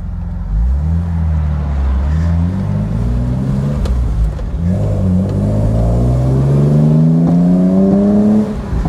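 A BMW E30 325i convertible with a manual gearbox, top down, revs up through rising gear sweeps, loud and close, with a steady rush of wind over the roar.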